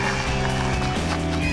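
Miniature horse at an animal shelter gives a loud, continuous whinny lasting about a second and a half, close to the listener and heard alone without speech.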